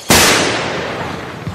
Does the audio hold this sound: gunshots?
yes